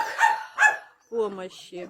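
Several dogs bark and yip at a crowded home animal shelter, sharp close barks in quick bursts with a brief pause between, alone without talk.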